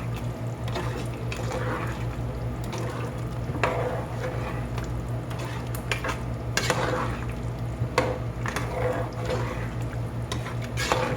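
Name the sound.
stirring chicken macaroni bake mixture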